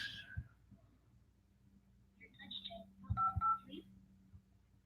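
An auto dialer on a real estate cold-calling line punches in a telephone number as short, clear beeping tones, faint and close, with a soft voice and quiet room noise around them.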